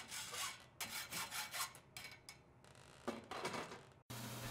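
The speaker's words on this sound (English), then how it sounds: "Now that we've found the locations for the stems, we can cut off the excess length." Cutting off excess length of pedal stems, a faint rhythmic rasping saw stroke repeated a dozen times in quick back-and-forth bursts, close and quiet, with no talk.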